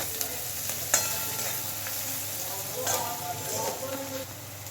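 Sliced onions fry in a pan for a dish of teasel gourd, also called kakrol, with egg, giving a loud, steady sizzle close by with occasional scrapes and taps of a spatula. No one speaks.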